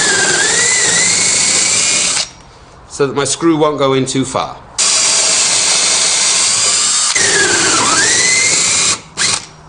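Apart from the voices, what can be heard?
power drill drilling hole in wood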